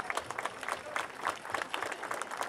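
Applause at an outdoor lamb festival in San Jaime for a writer called Mencho, a faint, distant patter of clapping from a modest crowd, uneven and fairly quiet throughout.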